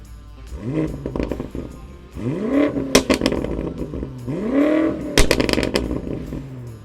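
A BMW M5 V8 revs twice, and each time the engine pitch sweeps up and falls back. Sharp clattering pops and crackles are heard between and after the rises. The engine is close and loud, with no talk over it.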